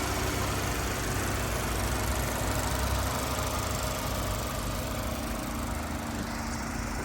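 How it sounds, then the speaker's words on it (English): A 2021 Mazda 3 G25 Astina sits idling, giving a steady, even, unbroken hum that stays close and constant throughout, with no voices. "Nice and quiet engine as well."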